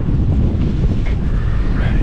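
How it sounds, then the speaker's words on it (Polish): Strong gusting wind buffets the microphone outdoors beside a loaded flatbed truck being tarped for a haul to North Carolina, a steady loud roar filling the whole stretch without letup. "strasznie wieje"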